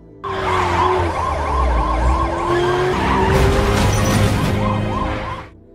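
A high-speed car chase from an action film, corrupt police in pursuit: loud wailing sirens sweep up and down over roaring engines, with tires skidding and screeching through the middle of the stretch.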